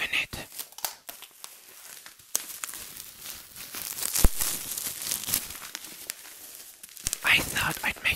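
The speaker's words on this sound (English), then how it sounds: "So much bubble wrap." A K-pop album package is unwrapped from bubble wrap, with close crinkling, rustling and tearing in irregular bursts, and soft speech in between.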